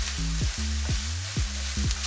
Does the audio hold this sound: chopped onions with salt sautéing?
yes